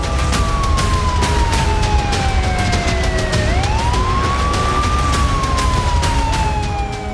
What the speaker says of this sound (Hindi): रेड अलर्ट सायरन बजता रहा